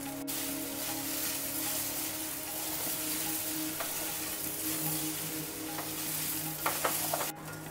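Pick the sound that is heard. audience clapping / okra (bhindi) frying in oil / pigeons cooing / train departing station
okra (bhindi) frying in oil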